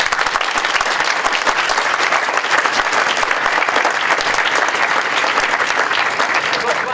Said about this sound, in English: So a round of applause for all those people.